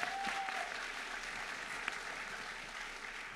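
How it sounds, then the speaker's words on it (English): A panel audience at a live film premiere gives sustained applause for the panelists, a dense, even wash of clapping from a crowd heard alone for a few seconds. "So give another round of applause for our panelists."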